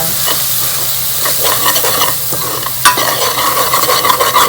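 Turmeric and powdered spices cooking in hot oil for dhaba-style palak paneer, a loud, dense sizzle with scraping spoon strokes against the pan, close and constant throughout.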